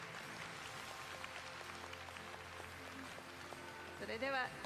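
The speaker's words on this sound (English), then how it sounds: "please have a round of applause on them again" An indoor audience claps steadily for game staff at an event, a faint, even patter of many hands with a voice briefly rising near the end.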